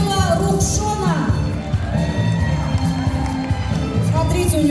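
A lively crowd at a staged prize-giving event cheers and shouts steadily, with excited voices and whoops mixed over music in a loud, continuous din.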